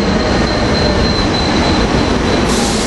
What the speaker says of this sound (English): We also got the Elwyn train 369 coming in with rail cars